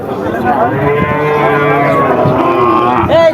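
A cow at the Barobazar cattle market in Jhenaidah lets out one long, loud, close moo that holds steady for a few seconds.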